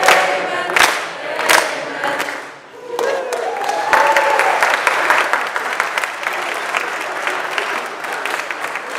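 Church congregation applauding the choir master, a dense burst of clapping that dips briefly, then swells into steady sustained applause with some cheering mixed in.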